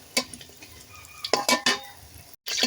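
Lentil bori fried in a pan, with a few loud clinks and scrapes of a utensil against the pan over a faint sizzle, then a brief gap before a steadier hiss of frying.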